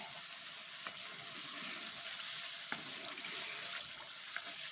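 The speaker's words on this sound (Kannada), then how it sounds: "ಈಗ ನಾವು ಎಣ್ಣೆ ಬಿಡೋವರೆಗೂ ನಾವು ಫ್ರೈ ಮಾಡ್ಕೊಳ್ಬೇಕಾಗತ್ತೆ" Tamarind gojju with lumps of jaggery fries in oil in a pan for puliogare, giving a steady soft sizzle throughout with a few faint stirring clicks, no voices.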